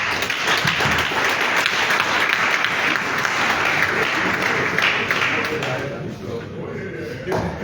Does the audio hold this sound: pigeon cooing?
no